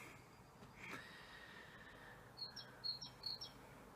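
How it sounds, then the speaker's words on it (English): A bird on a roof gives a burst of high, quick chirps near the end, faint and somewhat distant over quiet background hiss. "there was a bird going crazy on my roof"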